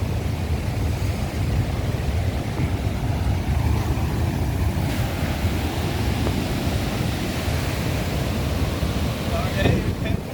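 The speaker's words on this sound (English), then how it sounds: "Damn waves up. Water rough is still." Rough, surging sea during Hurricane Beryl on the Barbados coast, a steady loud wash of waves and wind roar filling the whole stretch with no break.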